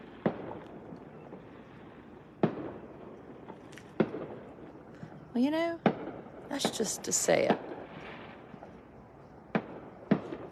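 Distant fireworks go off in scattered thuds and cracks across a night sky, with a whistling rocket and a dense crackling burst near the middle, while people talk nearby.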